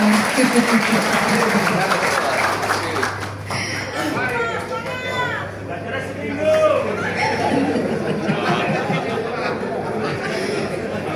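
An audience applauds the chairman at a Pemuda Pancasila district election meeting, starting as a loud burst and then thinning into scattered claps mixed with chatter, laughter and a voice speaking over it.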